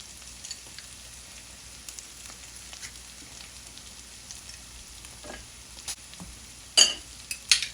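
Berbere spice is dry-roasted in a pan with scattered soft scraping and stirring ticks over a faint low hiss, ending in a few sharper clinks and scrapes near the close.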